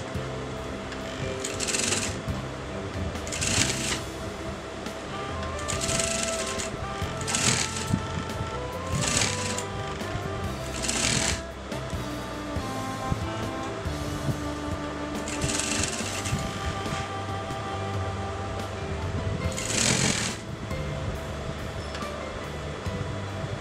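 A sewing machine stitches a collar in short whirring bursts that start and stop several times, loud and near, with no talk over it.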